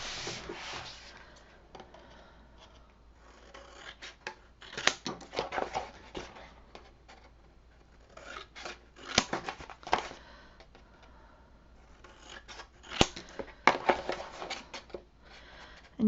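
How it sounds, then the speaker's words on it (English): Scissors snip paper for a 6x6 mini album, heard as bursts of crisp cutting and rustling at close range separated by quiet pauses, with no voice. "where's my scissors?"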